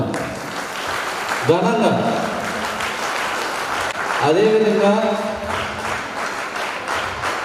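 An audience at a retirement function for a teacher with 42 years of service applauds in a sustained, moderately loud wash of clapping, while a speaker keeps addressing the crowd over it.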